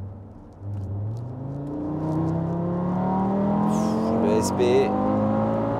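A tuned Audi RS3 Stage 2, a five-cylinder car, accelerates hard. The engine note climbs steadily in pitch through the revs with a deep rumbling growl from inside the cabin, and someone speaks briefly over it.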